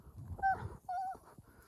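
A voice imitating a strange, distorted deer call heard in a forest at night in December: two short nasal, honking tones in a row, fairly quiet, over faint background noise.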